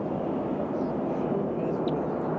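WestJet airliner passing at Nashville International Airport, a steady broadband jet roar heard from a distance for a couple of seconds with no speech over it.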